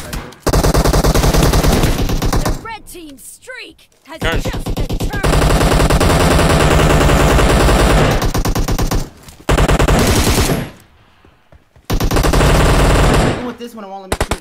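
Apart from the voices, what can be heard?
gunfire in a video game team deathmatch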